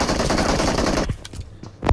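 Rapid gunfire after the firing button is pressed, heard as a loud dense burst of shots that cuts off, followed by a few scattered echoing reports.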